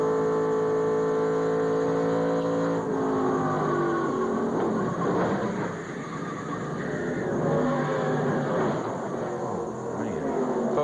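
In-car audio from a NASCAR Busch Series race car at Dover, 1997, with a steady loud engine drone whose pitch wavers and dips around the impact. There is no distinct crash thud, and the engine noise runs continuously throughout.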